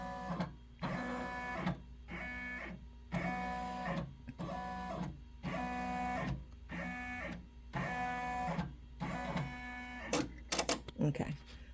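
Embroidery machine tracing the hoop border on a towel, whirring in short regular bursts separated by brief pauses, close and steady, with a few clicks and knocks at the end.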